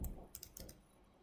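A few quick keystrokes on a computer keyboard while entering a command in a terminal, light and close, with short clicks spread over about a second and no talking.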